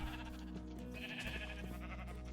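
A single sheep bleats in Minecraft over a steady electronic hum and soft background music, the bleat clear and close.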